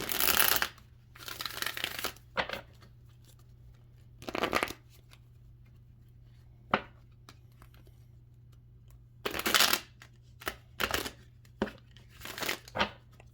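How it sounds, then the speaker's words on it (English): Tarot cards being shuffled in several separate bursts of riffling and rustling, close by, with quiet pauses in between and a low steady hum underneath. "let's go ahead and pull some clarification cards with the tarot."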